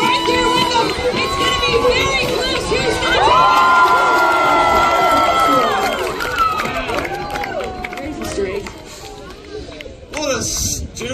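A crowd at a lumberjack show in British Columbia cheers and shouts loudly, with children's yells and whoops rising to a peak and then tapering off, plus scattered applause.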